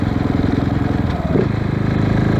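KTM 690 Enduro R single-cylinder motorcycle on supermoto wheels with an FMF exhaust, running steadily at a low, throbbing cruise with a slight blip midway, loud and close throughout.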